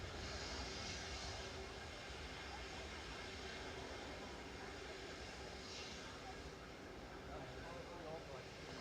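A Ryanair Boeing 737 Max 8 departing Manchester Airport gives a sustained, distant jet engine roar and rumble, holding steady and easing off slightly toward the end.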